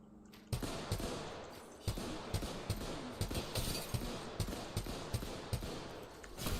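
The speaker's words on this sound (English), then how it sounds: "Shots fired and they're hitting me." Gunfire in a video game: a series of sharp, evenly spaced shots repeating roughly every half second over a dense noisy background, fairly loud and close.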